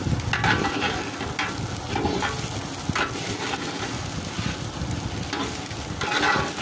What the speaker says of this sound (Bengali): ভালোভাবে নেড়ে চেড়ে মিশিয়ে দিতে হবে।